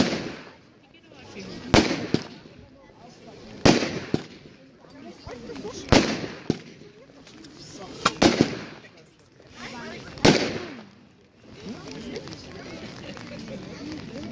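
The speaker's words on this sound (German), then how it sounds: "Eine großkalibrige Bombettenbatterie mit roten Blinkern." A large-calibre bombette fireworks battery with red strobes fires a series of sharp, loud bangs spaced roughly two seconds apart, with crackling between them and voices talking underneath.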